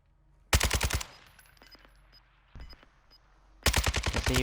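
Automatic gunfire in Call of Duty Warzone 2.0, loud close bursts of rapid shots at the start and end with fainter scattered pops and clicks in between.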